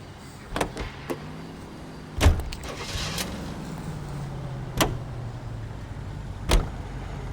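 A car is heard from outside as doors shut with sharp thuds, a motor hums at low level, and a power window whirs, with a few separate clunks spaced across the quiet stretch.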